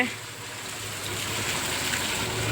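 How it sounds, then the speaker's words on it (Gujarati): Heavy monsoon rain falls as a continuous, dense rushing hiss close by, with the sound of running water swelling slightly toward the end. "અમારે તો અહીંયા બહુ વરસાદ છે"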